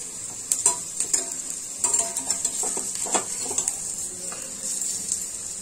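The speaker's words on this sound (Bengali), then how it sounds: "আমি বললাম এই ফাঁকে আমি একটু পকোড়াগুলো ভাজতে থাকি" Pakoras frying in a pan at home, a bright constant sizzle under repeated clinks and scrapes of a spatula against the pan, close by with no voices.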